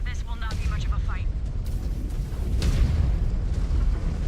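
Heavy cannon fire and explosions from an orbital cannon battle in the mech combat game MechWarrior 5: Clans, a dense rumbling barrage with booming bursts, while a voice speaks briefly over the opening.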